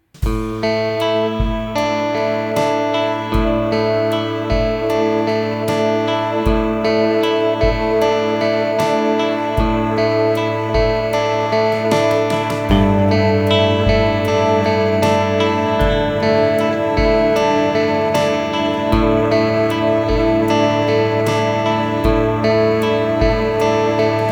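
A MOOD MKII effects pedal spreads a steady wash of sustained ambient pads with a loud, dense, layered texture, pulsing rhythmic accents recurring throughout, and no voices.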